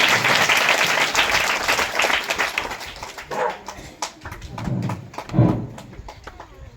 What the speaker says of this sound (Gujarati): આપણે સૌ જોરદાર તાળીના ગડગડાટથી વધાવીશું.